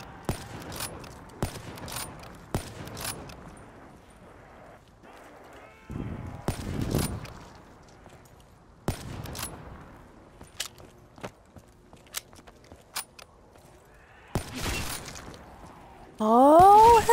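Gunfire in Call of Duty Zombies gameplay, heard as sharp single shots spaced irregularly with quieter gaps, some footstep-like sounds, and a loud burst at the end.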